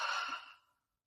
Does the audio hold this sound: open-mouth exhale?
yes